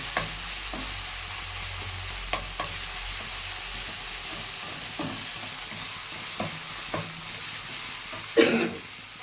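Ginger-garlic paste being stirred into onions frying in a pan, a low steady sizzle punctuated by several irregular spatula scrapes and knocks, with a louder scrape near the end; no speech.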